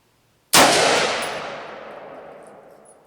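A single sharp rifle shot from a Savage MSR15 firing hand-loaded ammunition, loud and close, with a long decaying ring trailing off over a couple of seconds.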